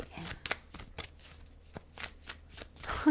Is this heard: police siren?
no